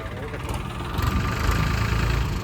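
A Farmtrac 45 tractor engine idles with a low, steady rumble close by while people talk over it.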